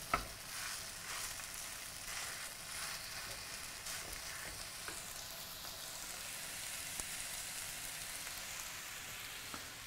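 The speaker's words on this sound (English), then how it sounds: "Let's get that beef frying." Steady sizzling of beef frying and browning in a hot pan, a continuous crackling hiss with occasional stirring clatter, close and moderately loud.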